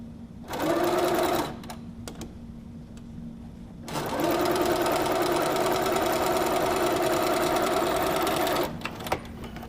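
A Little Rebel sewing machine sews quilt binding pieces: a brief whirring burst, a pause with small clicks, then a longer steady close run.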